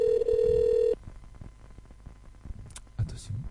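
A steady telephone dial tone sounds loudly for about a second at the start of a live radio prank call, then cuts off to low room noise with faint voices.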